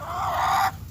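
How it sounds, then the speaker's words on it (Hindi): Chickens kept in a village yard give a brief burst of clucking and squawking, close and fairly loud, lasting most of a second before it cuts off abruptly. "हमारे चाचू जी ने मुर्गियाँ भी रखी हुई हैं"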